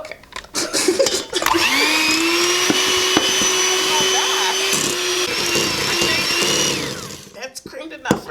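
An electric mixer creams butter and cream cheese for carrot cake icing, a steady loud whirring motor hum that runs continuously for several seconds before cutting off.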